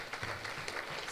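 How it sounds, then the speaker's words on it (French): Brief burst of audience applause for a young girl at an International Day of the Girl event in Ziguinchor, Senegal: a soft, continuous wash of scattered clapping from a crowd at moderate distance. "Applaudissez pour cette jeune fille."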